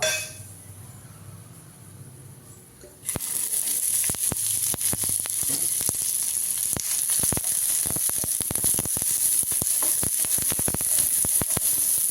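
Small onions dropped into hot oil in a pan for a mushroom curry, a quiet room giving way to a sudden loud, steady sizzle after about three seconds, with occasional clinks of a utensil against the pan.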